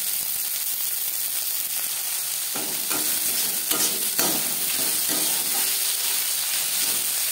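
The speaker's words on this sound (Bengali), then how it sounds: "আলুর সাথে ফুলকপি বেশ ভালো করে মিক্স করে দেবো।" Potatoes and cauliflower stir-frying in a pan give a constant sizzle, broken by repeated scraping and clattering strokes of a spatula, with no voices.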